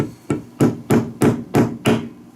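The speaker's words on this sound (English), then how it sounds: "When in doubt, get out the big hammer." Seven heavy blows from a big hammer strike a drone part, loud and close, falling at a steady rhythm about a third of a second apart, with a short ring after each hit.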